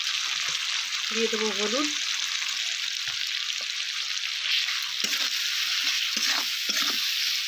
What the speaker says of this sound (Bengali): সব মশলাটাকে ভালোভাবে ভেজে নেব।